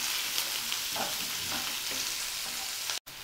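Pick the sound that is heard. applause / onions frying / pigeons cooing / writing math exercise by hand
onions frying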